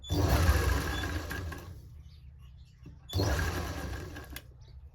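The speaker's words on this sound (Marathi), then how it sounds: "शिलाई करत असताना स्टार्टिंगला आपल्याला शिलाई लॉक करून घ्यायची आहे" A sewing machine stitches thin cord in two bursts of steady whirring, the first longer and louder, with a short quiet pause between them.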